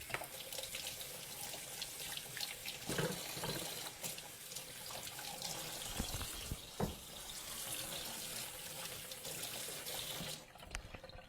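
Kitchen tap water runs steadily into a sink while a vegetable gets a quick rinse, a continuous hissing splash with a few brief knocks and splatters before the flow cuts off at the end.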